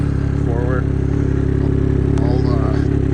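A 2020 Ski-Doo 900 Ace Turbo snowmobile with pDrive clutch and reverse issues, running in reverse: a loud, steady, close engine idle-rumble with a droning hum, with some faint background voices.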